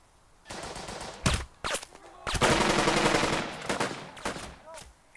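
Bursts of machine-gun and rifle fire from the video game Burden of Command, set in Casablanca, crackle in several rapid volleys, one sustained stretch in the middle, with scattered single shots around it.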